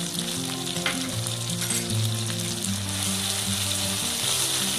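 Ginger and garlic paste for malai chicken sizzles steadily in hot oil while being stirred, a continuous close frying hiss with light scraping, no voices.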